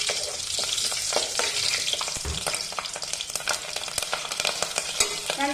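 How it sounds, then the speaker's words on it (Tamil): Green chillies drop into hot oil already frying with cardamom, a piece of cinnamon and fennel seeds for veg salna, a steady close sizzle broken by sharp crackles and stirring scrapes, with no talking. "3 பச்சை மிளகாய் உள்ள போட்டுக்கலாம்."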